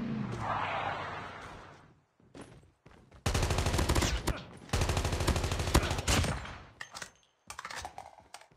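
Gunfire in Call of Duty Mobile battle royale, with rapid automatic bursts ringing out loud and close in two long strings, then shorter bursts and a few single shots.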